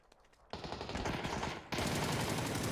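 Enemy gunfire in PUBG, from players on a hilltop: a quiet lead-in gives way to sustained rapid automatic bursts that jump louder partway through and keep hammering steadily, with no talk.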